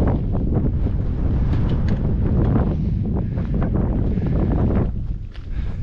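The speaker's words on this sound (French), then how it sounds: "mais le vent souffle de plus en plus fort" Strong wind on an Alpine hike near La Rosière buffets the microphone in loud, continuous roaring gusts, easing slightly near the end.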